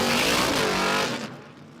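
A drag race car launches hard down the strip at the Garrett Adelaide Jamboree, the tyres blowing off; a loud, roaring engine burst with tyre noise fills the opening second before dropping away sharply.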